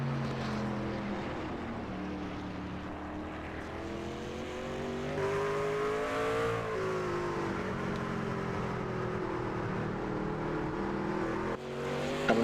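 A race truck engine in a racing video game drones steadily through a hot lap, its pitch rising and falling with gear changes and throttle over a continuous mechanical roar.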